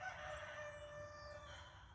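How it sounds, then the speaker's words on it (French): A rooster crows outdoors, a faint, distant drawn-out call over soft background noise. "Ta gueule le coq."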